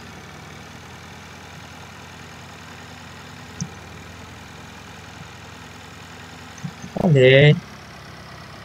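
A car drives in the video game Motel Manager Simulator, with a faint, steady low engine hum running underneath and a short burst of speech near the end.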